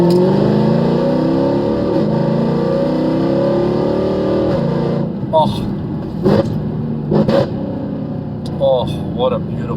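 A Mercedes C63 AMG engine revs loudly with a rising, dropping growl, then settles into a quieter idle broken by a few sharp blips of the throttle, with a person speaking.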